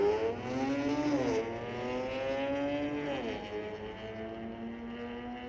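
A Genesis G70 accelerates down a street-legal drag strip at Mission Raceway Park, its engine note climbing steadily at a moderate distance and dropping briefly at two gear shifts before rising again.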